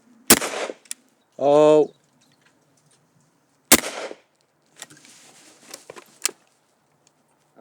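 A Yildiz .410 over-and-under shotgun fires on an outdoor shooting ground, with two sharp, loud reports a few seconds apart, then fainter clicks of the action being handled. A person speaks briefly between the shots.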